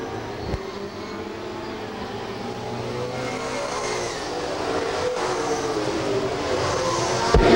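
Nor-Cal late model stock cars race on the Lakeport Speedway oval, making a continuous engine drone that slowly builds in loudness, with a couple of faint knocks over the roar.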